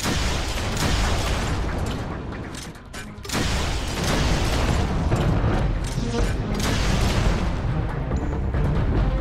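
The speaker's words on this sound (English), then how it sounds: "It's fun using the rocket launcher." Rocket launcher blasts and booming explosions fill a N.O.V.A Legacy battle, loud and continuous with a brief lull before another heavy volley of detonations.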